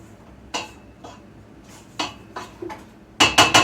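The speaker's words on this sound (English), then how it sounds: "I'm going to just turn that off and scrape this for a second" A spatula scraping and knocking around a mixing bowl of chocolate chip cookie dough, with a few separate clinks and scrapes spread out, then a quick cluster of loud, bright strikes near the end.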